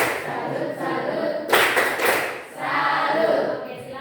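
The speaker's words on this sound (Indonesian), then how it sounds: "Oke, tepuk salut dulu." A university class claps through a 'tepuk salut' routine, with a few short patterned bursts of clapping, moderately near, and a burst of louder claps midway. Faint voices sit underneath.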